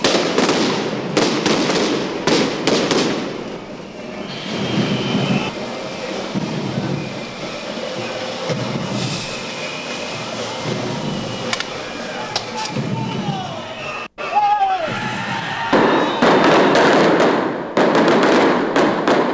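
Loud, sharp stun grenades bang repeatedly amid a noisy crowd of protesters at the 2000 IMF protests in Prague, some close and booming, with a brief lull before more blasts.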